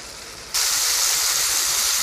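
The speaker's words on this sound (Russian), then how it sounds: "Выделивший сок выпариваем." Apple juice boils off in a hot pan, and the sound jumps suddenly from a moderate sizzle to a loud, dense, continuous hiss of steam that holds steady to the end.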